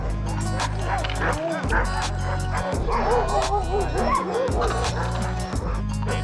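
Sled dogs at feeding time during a winter mushing day in Jackson, Wyoming, bark, yip and whimper in a loud, continuous chorus close by, with rapid overlapping calls throughout.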